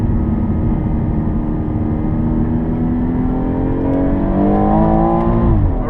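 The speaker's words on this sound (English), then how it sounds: "Hitting speeds of up to 200 on the back straight in the BMW M240i" A 2017 BMW M240i pulls hard at speed along the back straight at Killarney International Raceway, its loud engine note climbing steadily through the gears and ending in a sharp rise before a shift.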